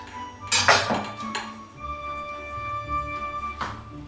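Herring salad with potatoes and egg being stirred in a dish, a loud spoon clink and scrape against the bowl near the start, then softer ringing clinks and a final knock, close and without talking.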